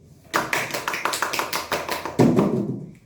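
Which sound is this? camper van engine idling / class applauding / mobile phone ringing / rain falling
class applauding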